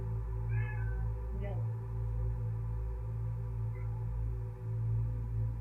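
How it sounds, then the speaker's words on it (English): A frightened cat gives a few short, faint meows spaced a second or more apart, thinly heard over a constant low indoor hum. "The cat's freaked out."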